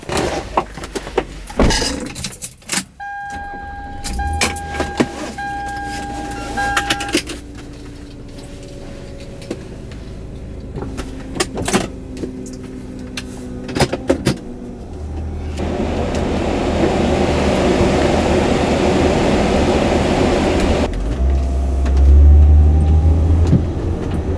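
A 2000 Toyota Avalon XLS drives, heard from the back seat: a steady low cabin rumble with road and engine noise, a few clicks and knocks early on, and a rushing hiss that builds in the second half.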